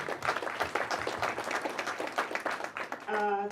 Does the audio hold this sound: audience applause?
yes